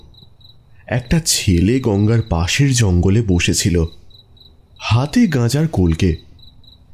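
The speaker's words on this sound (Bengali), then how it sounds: "চারপাশে ঝিঝির ডাক যেন" Crickets chirp at night in a jungle beside the Ganges. The thin, steady trill is faint and carries on beneath a narrator's storytelling voice, clearest in the pauses.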